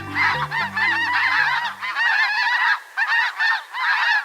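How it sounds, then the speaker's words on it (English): A flock of white geese honks loudly and repeatedly in dense overlapping calls, close and continuous, with a brief low tonal sound fading at the start. "In winter, flocks of white geese gather by the thousands in fields and marshes of the U.S. and Mexico."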